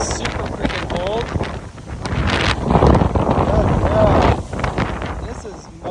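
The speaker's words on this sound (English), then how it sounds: "This is probably some of the strongest wind I've ever experienced in Nashville" Strong wind gusts roar outdoors in Nashville, buffeting the microphone with a constant heavy rumble that swells and eases, while a person talks over it.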